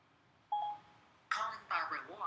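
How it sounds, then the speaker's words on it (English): iPhone placing a phone call through Siri: a brief tone, then a burst of dialing sounds with a Siri voice speaking over them. "Calling Barbara Worrell. iPhone"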